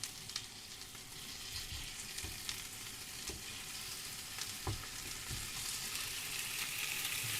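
Scrambled tofu fries in a pan with a steady, close sizzle and occasional soft stirring scrapes and taps, and no talking.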